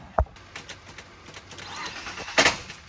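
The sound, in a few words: Ford Fusion engine cranking over with its starter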